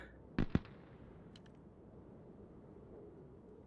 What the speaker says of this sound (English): I heard some explosions.